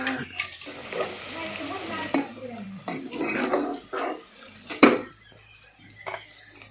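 Onions sizzle and fry in a pan on a home village kitchen stove, with repeated stirring scrapes and utensil clinks across the clip, while people talk nearby.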